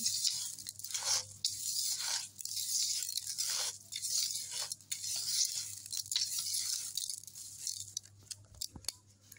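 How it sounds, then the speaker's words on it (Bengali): Hands knead grated coconut with sugar and salt in a bowl, giving a steady close-up crunching, squishing rustle that runs on for several seconds without talk. "চিনি, লবণ, নারকেল সব একই সঙ্গে সুন্দর করে মাখিয়ে নেব।"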